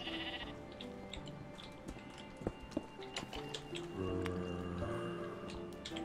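Sheep bleating in the video game Minecraft, a few short faint bleats and soft squishy footstep sounds over quiet game ambience.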